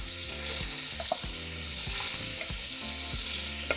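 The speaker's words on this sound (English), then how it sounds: "and lastly, we're going to brown our ribs." Pork ribs browning in a pot for pozole blanco give a loud, steady close sizzle and spatter, with occasional scraping and knocking as the meat is stirred and turned, no talking.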